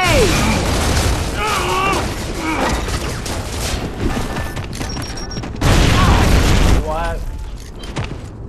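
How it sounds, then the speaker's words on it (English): A grenade blows up in a video game with a loud booming blast amid steady gunfire and chaotic action, while players talk excitedly over it throughout. "Incoming grenade!"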